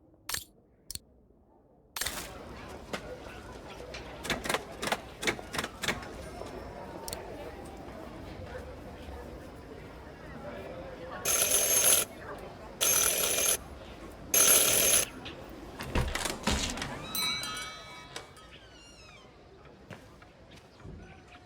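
A bell is rung three times in quick succession for an urgent matter in the Syberia video game, three loud bright rings following a stretch of quieter clicks and knocks.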